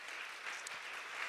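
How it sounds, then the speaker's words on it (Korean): Church congregation clapping at a Sunday youth service, a faint, steady patter of applause heard for just over a second. "한번 우리 이분들 위해 박수 한번 합시다."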